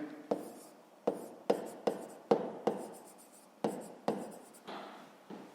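Pen strokes on paper during a fifth-grade maths exercise, a series of about a dozen sharp, close scratches in an irregular rhythm, each fading quickly, with no talk.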